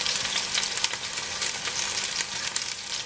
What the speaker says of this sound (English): After that, the kebabs going in.